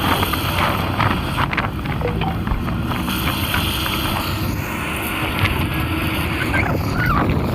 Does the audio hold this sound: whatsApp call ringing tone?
no